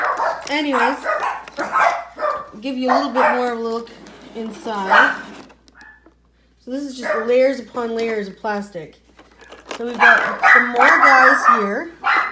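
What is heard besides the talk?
dog barking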